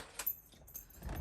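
Two keys for a smart lock jangling close by, a short bright metallic rattle, with faint background noise and no talking.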